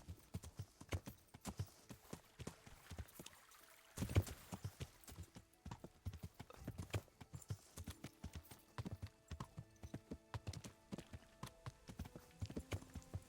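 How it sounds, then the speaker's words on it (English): Horse hooves clip-clop in a steady walking rhythm in the video game Kingdom Come: Deliverance, quiet and close, with a brief snort or whinny partway through. "Can I take out a torch while I'm riding a horse?"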